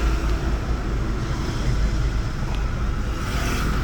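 A car engine hums steadily at low revs, with road and cabin noise, as a learner driver presses the clutch and shifts into second gear.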